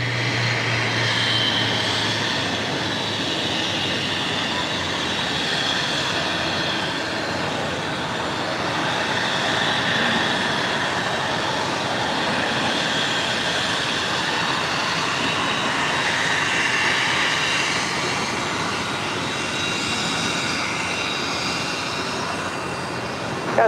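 An airliner rolls for takeoff from runway 25 right at Los Angeles International Airport, its engines roaring steadily at a distance and swelling gently for the whole stretch, with no talk.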